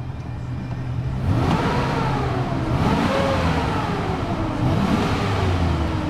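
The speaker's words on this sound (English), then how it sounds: "So it revs up beautifully," A 2003 GMC Sierra SLE pickup engine with 198,000 miles revs up and down several times, rising and falling whine over a deep rumble, close and steady throughout.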